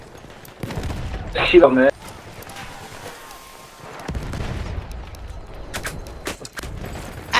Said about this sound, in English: Grenade out! Look alive! Tossing a grenade!